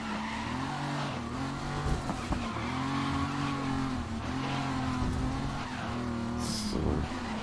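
Race car engine droning steadily through a Grid 2019 race, with harmonic bands dipping and rising through gear changes and a brief high squeal near the end, all fairly loud and continuous with no voices.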